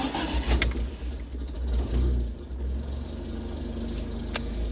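A Fiat X1/9 engine starts and settles into a steady running idle, its low rumble constant and close, with brief clunks early on and no speech.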